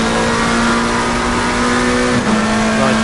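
Turbocharged McLaren race car in a racing video game, its engine droning loud and steady at high revs, pitch briefly dipping as it shifts for a second-gear corner, with no voices.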